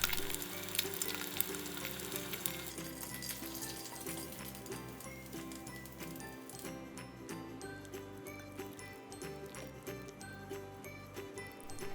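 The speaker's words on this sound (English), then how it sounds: "Fry sunny side up egg." A sunny side up egg fries in a pan with a steady, soft crackling sizzle and scattered small pops and ticks, heard alone at close range.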